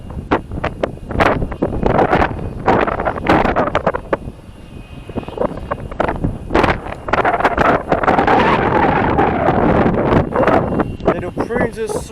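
Strong gusty wind blows at Southampton Airport's runway 20, buffeting the microphone in irregular loud bursts, with a fixed-wing aircraft engine droning through much of it.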